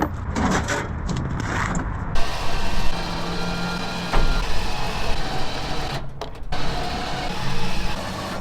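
An electric winch drags a Nissan Sentra onto a trailer, the bumper removed for the hookup. A steady whirring, grinding hum runs throughout, loud and close, with brief shifts in pitch as the load moves.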